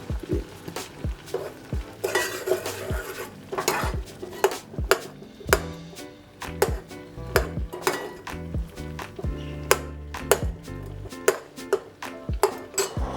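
Cooked cucumber chopped into smaller pieces inside a metal pot, sharp metallic clinks and taps of the utensil striking the pot in an irregular series, close and clear with no talk.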